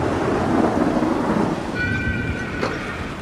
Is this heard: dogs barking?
no